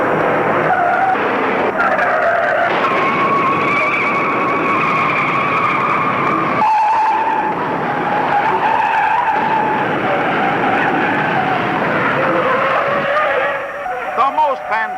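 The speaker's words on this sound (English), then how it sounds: "The most fantastic pileup in auto racing history takes 37 cars out of the race." Race cars skid and slide in a multi-car pileup during a NASCAR race, long squealing tire tones rising and falling over engine roar, loud and continuous, with a commentator talking over it.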